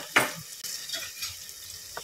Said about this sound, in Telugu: ఇప్పుడు బాగా ఆయిల్లో ఆనియన్స్, పచ్చిమిరపకాయలు మగ్గాలి.